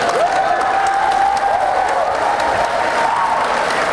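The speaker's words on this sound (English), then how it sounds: "Have a nice round of applause for our guest speakers today." Students at a mock DUI safety presentation applaud their guest speakers, a loud sustained wash of clapping from a crowd with a faint tone running underneath.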